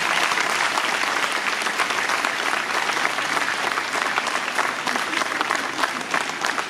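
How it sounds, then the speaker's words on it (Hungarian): An audience at a school year-end ceremony claps steadily, a dense, loud, even applause with no talking. "Tapsoljuk meg őket!"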